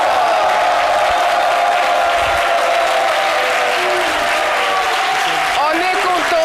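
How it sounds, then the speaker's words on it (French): Studio audience applause for guests on a French-language television talk show: a loud, continuous wash of clapping with some cheering, while a tonal musical jingle plays underneath and a few voices rise near the end. "Madame Konan et de Monsieur Boubéry que je vous demande d'applaudir."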